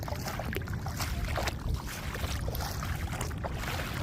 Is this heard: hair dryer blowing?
no